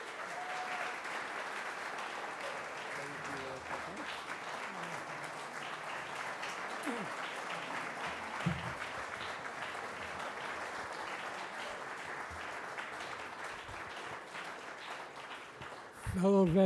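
An audience of veterans and guests at an Independence Day salute ceremony applauds a veteran honored for his service, the clapping steady and moderately distant for a long stretch. A louder burst comes right at the end.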